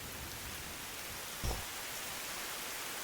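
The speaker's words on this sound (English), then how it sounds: "the deafening sound of rain as it, you know, rains on the puddles" Steady heavy rain pours onto puddles over an anime outro, a dense continuous hiss with a single brief low thud near the middle.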